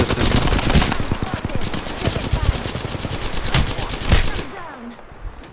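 Rapid bursts of automatic gunfire in the video game Apex Legends rattle almost continuously, loud and close, with heavier single shots mixed in before the firing briefly eases near the end.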